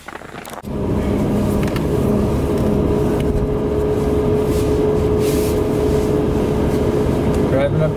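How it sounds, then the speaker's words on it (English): Steady, loud road rumble of a car driving on a frigid -5 degree winter day toward Ely, Minnesota, a continuous engine and tire drone with a thin tonal whine running throughout and no talk. "Driving up to Ely, Minnesota."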